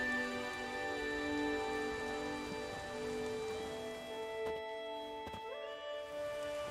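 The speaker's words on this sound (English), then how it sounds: "There's no point standing here in the rain." Steady rain falls in The Witcher video game, a continuous wash of drops under layered tonal music, with a couple of sharp brief knocks near the end.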